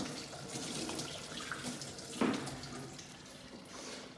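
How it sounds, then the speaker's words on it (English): Hands rinsed under a running kitchen tap while making pizza sauce, a steady close hiss of flowing water with a brief louder splash partway through and no talking. "I give the hands a quick wash."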